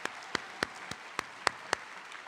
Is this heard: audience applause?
yes